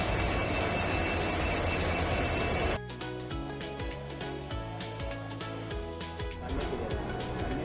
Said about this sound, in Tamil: நம்மளோட ட்ரெயின் பிளாட்ஃபார்மில் ரெடியாக நின்றுட்டு இருந்தது.